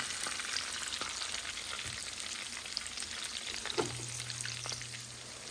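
Sardines from Portugal and onions fry steadily in a pan, a continuous close sizzle with one brief clatter partway through.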